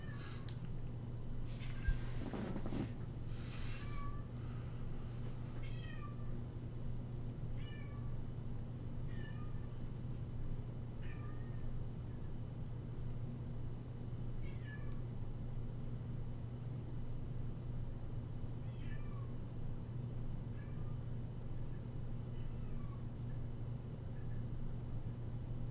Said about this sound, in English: I'm sorry if y'all can hear my cat. She wants to come in